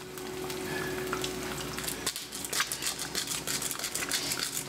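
Chips and an egg frying in a pan, with a steady close sizzle and light crackle throughout and a brief dip partway before the spitting picks up again.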